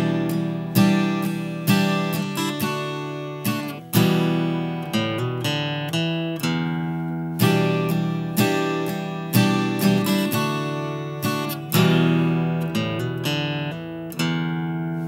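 Clean guitar riff starting on the open sixth string, picked single notes mixed with chords and hammer-ons in a steady, repeating rhythm, close and clear with no talking.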